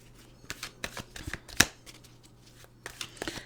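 Playing cards shuffled for a tarot-style reading, a run of short papery riffles and snaps with one sharper burst midway, close and fairly quiet, with no talking.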